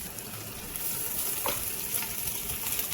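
Cooked rice stirred in a pan with soy sauce on a home stove, a soft continuous sizzle with faint scraping, low and steady with no talking.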